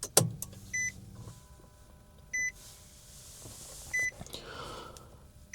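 Three short electronic chimes sound at even intervals as a car is switched to the on position, following a brief motor whir at the start, over a quiet interior hum.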